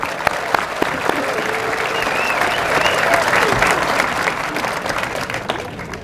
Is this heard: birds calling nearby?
no